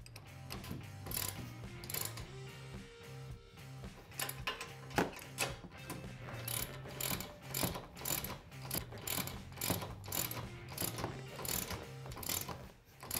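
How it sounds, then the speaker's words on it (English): Hand ratchet clicking steadily while tightening reused nylock nuts on a Can-Am Commander UTV during a Tusk Stage 3 upgrade kit install, a dense run of close, rapid ratcheting strokes with no talk. "And we'll go ahead and tighten them down."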